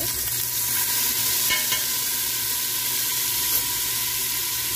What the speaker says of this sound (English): Got about 2 tablespoons of bacon grease melted in here. And we're going to add a big old heaping spoon of some minced garlic.